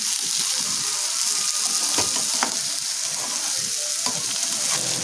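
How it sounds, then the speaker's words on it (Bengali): Mashed potato filling for Bengali-style aloo paratha sizzles in a pan while being stirred to dry out its water, a continuous close crackle with scraping stirs and small spatters throughout, no voices. "এটাকে আমরা আরও একটু জলটা শুকোবো, আরও একটু সামান্য টাইট করবো এটাকে।"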